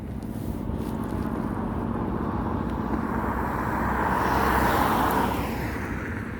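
Road traffic passes close by as a continuous loud engine and tire rumble, swelling as a vehicle goes past and then easing slightly.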